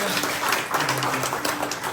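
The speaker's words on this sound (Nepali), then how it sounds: "उहाँहरूलाई पनि बधाई तथा आशीर्वाद दिनुहोला ताली बजाएर" An audience claps steadily at a food-offering (bhojan prasad) distribution gathering, a scattered, moderately loud applause with some voices underneath.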